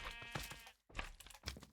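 Sheep bleating in a Superflat Minecraft-style world, two or three close, wavering bleats separated by a short pause, clear and alone.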